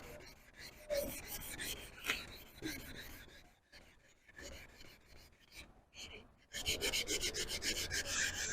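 Steady scratchy rubbing of sandpaper on a car headlight, in repeated strokes up close, growing louder and faster near the end.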